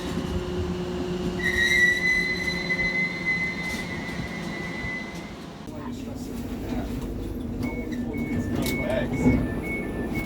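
A London Overground train rumbles along with squealing wheels and a drawn-out tonal whine, later a periodic beeping, steady and close throughout.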